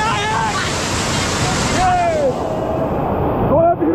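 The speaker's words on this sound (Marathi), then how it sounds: "डॅम भरल्यावर पाणी दगडी पायऱ्यावरून ओव्हरफ्लो होते, ज्याला आपण बुशी डॅम वॉटरफॉल म्हणून ओळखतो." Water pours loudly over the stone steps of Bhushi Dam as the full reservoir overflows, a dense, continuous roar close by, with voices and brief shouts over it.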